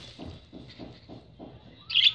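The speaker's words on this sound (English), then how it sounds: "See, my birds are adorable." Pet birds chirping indoors: a steady, rhythmic run of soft, low calls, then a brighter, sharp burst of chirping at the end, with no talking.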